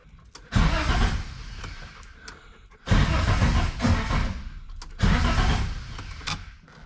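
A Holden LC Torana GTR that has sat for two years cranks over three times, each attempt a long, labouring whirr from a struggling starter, loud and close with short pauses between tries.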